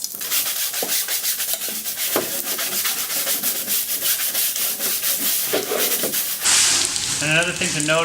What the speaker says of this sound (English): I'll grab my tough bristle brush here, and I'll start going at the floor.